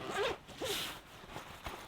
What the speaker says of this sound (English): You have dual YKK zippers.